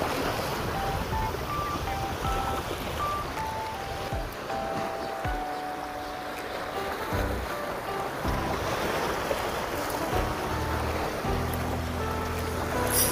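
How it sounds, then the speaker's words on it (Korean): Steady wind and sea noise wash over a fishing spot at night, a continuous broadband rush with water lapping, no talk, and faint tonal beeps scattered through it. "오늘 바람 불어서 시원하고 좋긴 한데,"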